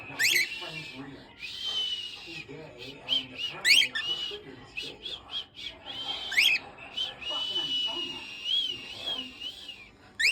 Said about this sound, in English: I'm getting better at my whistle too